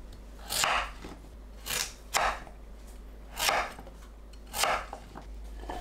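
A knife cuts sweet pumpkin into 2 cm pieces on a board, giving five spaced, crisp chopping crunches at an unhurried rhythm, close and fairly quiet, with no voices.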